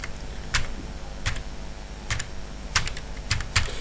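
Keys clatter on a computer keyboard while an accountant types entries into Tally ERP 9 accounting software, short bursts of close, crisp keystrokes separated by brief pauses, with no talking.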